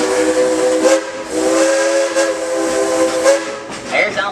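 A steam locomotive on a tourist railway line sounds its whistle in a series of loud, close toots with steam hiss between them.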